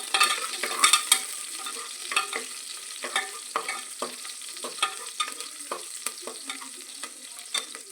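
Cut green chillies being stirred in a frying pan for a tomato kushka, with a steady close sizzle and repeated sharp scrapes and clicks of the spoon against the pan, no talking.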